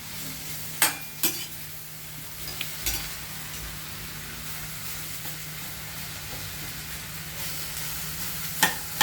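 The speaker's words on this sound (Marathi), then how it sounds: "हा मस्त गुलाबीसर कांदा भाजलेला आहे." Onions frying in a pan for a Maratha-style black chicken curry, a steady close sizzle with the scrape and clink of a spoon stirring, sharper clatters near the start and end.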